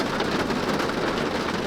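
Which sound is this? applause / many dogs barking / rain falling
rain falling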